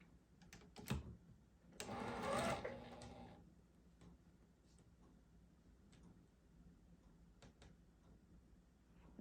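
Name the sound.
sewing machine stitching quilt block pieces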